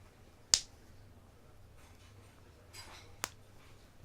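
Snap fasteners on a sewn blouse closing with pressure, a sharp loud pop near the start and a second crisp pop about three seconds later, with faint rustling of fabric between.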